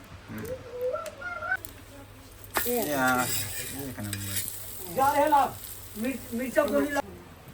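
A rice chila fries in a pan with a steady sizzle and occasional stirring clinks, heard close beneath several voices talking at intervals.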